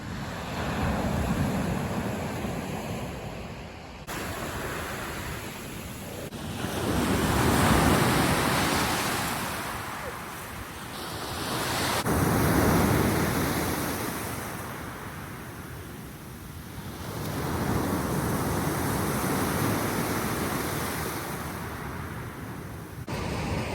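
Sea waves break on the shore at sunrise at Çıralı, a loud, continuous wash of surf that swells and recedes in slow rolling surges with some wind, and no voices.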